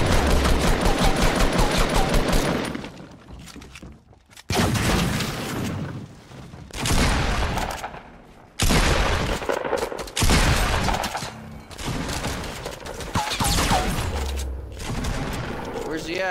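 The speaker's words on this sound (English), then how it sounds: "Someone's shooting at us." Rapid bursts of automatic gunfire in the Fortnite battle royale, loud and close, coming in several dense volleys separated by brief pauses, with a voice talking under the shooting.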